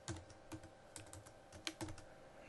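Keys on a computer keyboard clatter close by during spreadsheet data entry, a quick, uneven run of taps and clicks with no voices over them.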